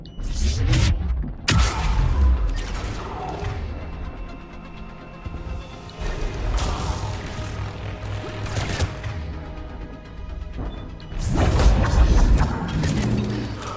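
Repeated grenade explosions in Mass Effect Legendary Edition on Cronos Station, loud booming blasts with crashing debris and scattered gunfire, a big burst at the start and another heavy one near the end.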